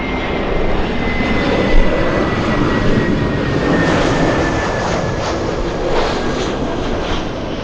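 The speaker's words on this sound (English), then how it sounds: "the 767 climbing like a rocket" A Boeing 767 climbs steeply after takeoff from Los Angeles International Airport, a loud, steady jet roar with a whining engine tone sustained throughout, close and unbroken.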